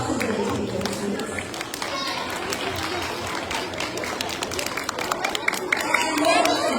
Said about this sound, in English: Let's give them a round of applause as they take their seats